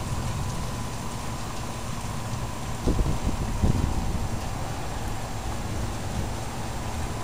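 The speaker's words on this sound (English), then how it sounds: "You can see the rain, good contrast there. It's pouring." Heavy rain pours steadily onto a car and street with a dense, constant wash, a couple of louder splashes or thumps partway through.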